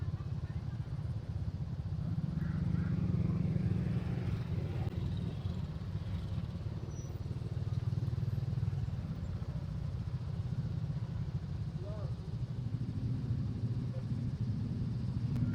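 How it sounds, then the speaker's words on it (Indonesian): Traffic jammed on the Limpapeh bridge in Bukittinggi during busy Lebaran crowds: a steady low rumble of idling car and motorcycle engines fills the scene, with faint voices murmuring in the background. "Macet di jembatan Limpapeh."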